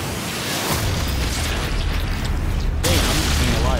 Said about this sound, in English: I'm just seeing a lot of explosions